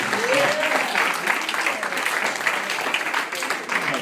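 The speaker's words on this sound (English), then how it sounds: "give y'all also a round of applause" Audience applause from a crowd at an arts center event, a dense steady wash of clapping lasting the full few seconds, with faint voices mixed in.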